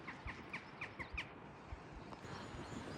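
Several crows squawk in a quick run of harsh caws around the ruined Shildon Engine House, carrying clearly through steady outdoor wind noise before the calls fade out.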